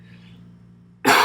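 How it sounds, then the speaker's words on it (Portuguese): A single short, sharp cough after a moment of quiet room hum. "Tossi aqui."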